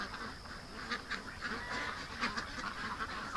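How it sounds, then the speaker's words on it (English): Ducks quacking and honking in a backyard at night, a dense chorus of repeated calls at moderate distance with no talk over them. "Come on, ducks."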